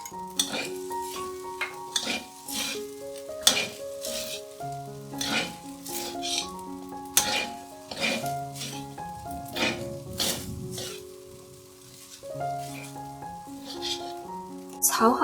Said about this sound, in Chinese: 再将刚刚炒好的豆腐倒入锅里一起炒均匀